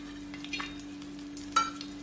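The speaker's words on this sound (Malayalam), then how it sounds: "ഇത് വീണ്ടും ഇളക്കി ഫ്രൈ ചെയ്യാം." Cashews and raisins frying in a pan for a prawn clay pot biryani: a low, steady sizzle with a constant hum beneath, broken by a couple of brief stirring scrapes, faint and close.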